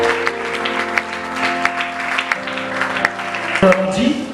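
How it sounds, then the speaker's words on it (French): A church congregation claps and cheers in praise during a service, a dense burst of applause mixed with voices and a sustained tone beneath. "on acclame le Seigneur."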